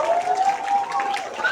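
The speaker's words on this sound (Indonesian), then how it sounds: "Kita tepuk tangan untuk teman-teman kita kemarin itu." Schoolchildren clap their hands together at an Independence Day flag ceremony at an Indonesian elementary school, a dense, steady patter of many small hands filling the short stretch with a tonal hum running beneath.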